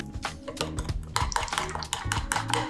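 Spoon stirring tomato passata with brown sugar, oregano and garlic paste in a small bowl, a steady run of close scraping and clinking strokes with no talk.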